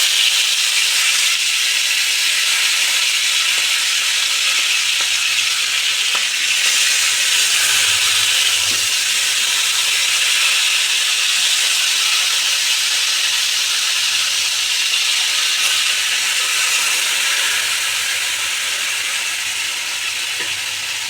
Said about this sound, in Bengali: তেলটা গরম হয়ে গেছে, এবার আস্তে আস্তে চিকেনগুলো দিয়ে দেবো।